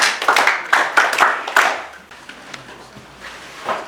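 Classmates clap for a student in a physics class, a burst of sharp, loud claps in quick rhythm for about a second and a half, then fading to a few scattered, fainter claps.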